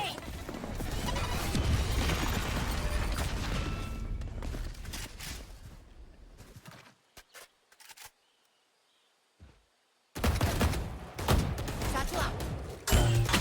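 Chaotic video game combat in a competitive shooter match: a dense barrage of explosions, smashing crashes and gunfire for several seconds, then near silence with a few stray hits before loud fighting resumes.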